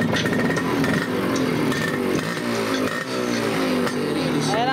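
A 1973 Kawasaki B1 motorcycle engine runs steadily close by after being started for a full-wave conversion, a continuous buzzing two-stroke drone with a few small rev changes throughout.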